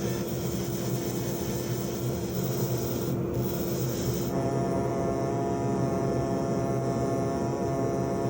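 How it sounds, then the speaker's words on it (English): Air abrasive tools and grinders doing fine preparation work on an ammonite fossil, giving a steady continuous hiss and hum with a rubbing rasp, loud and close, with no speech. "There's just a little bit more fine work to do with the air abrasives and grinders,"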